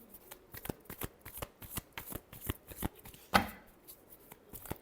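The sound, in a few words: shuffling tarot cards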